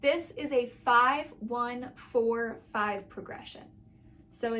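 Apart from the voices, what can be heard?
No everyday noises stand out.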